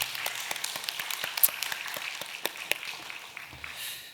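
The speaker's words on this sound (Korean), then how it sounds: "우리 하나님께 영광의 박수 올리겠습니다." A church congregation claps during a Sunday family service, a fairly light, scattered patter of many hands heard at a moderate distance and fading near the end.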